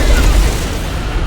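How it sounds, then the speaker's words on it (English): A Nova Cannon shell lands on a ship in a Battlefleet Gothic Armada space battle, a single heavy low boom that rumbles and fades over about a second, loud and close. "Lovely hit with the Nova Cannon,"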